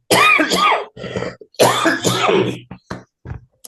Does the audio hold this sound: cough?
yes